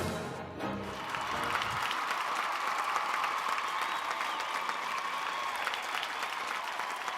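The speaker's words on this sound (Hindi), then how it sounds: "जोरदार तालियां दोस्तों, तालियां बजती रहनी चाहिए" An award-show audience at a Bhojpuri film awards ceremony gives sustained, even applause that swells after a brief opening and holds steady throughout, a broad wash of many hands clapping with no voice on top.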